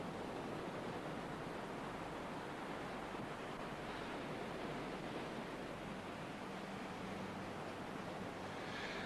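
Cold wind blowing steadily outdoors, a constant broadband rush that stays loud and unbroken throughout, with no voices over it.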